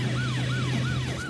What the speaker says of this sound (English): when Detective Mack hit his blue lights and siren, these people just hit the gas and took off